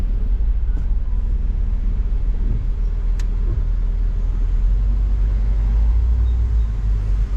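Inside a car driving through Macau traffic at dusk near the Cotai Strip, a steady low engine and road rumble runs throughout, with a couple of faint clicks and no talking.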